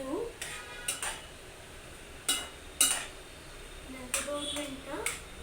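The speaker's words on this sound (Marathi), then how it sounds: "आता आपण छान परतून घेऊ" Potato vegetable being stir-fried in a pan, with a string of stirring scrapes and clinks against the pan roughly every second over a faint sizzle, heard up close.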